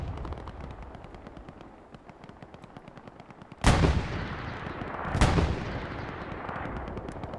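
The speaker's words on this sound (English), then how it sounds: "They're just shooting straight into here now." A World War II–style Omaha Beach multiplayer battle crackles with steady rapid small-arms fire, then two heavy explosive bangs punch through about a second and a half apart, each trailing off into rumbling gunfire, with no talk.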